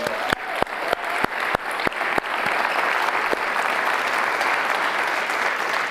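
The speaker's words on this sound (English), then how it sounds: "I really want you guys to give a massive round of applause to the huge team that's actually behind this" A conference audience applauds a team, opening with a few sharp individual claps in a slow rhythm before swelling into a full, steady wash of applause from the crowd.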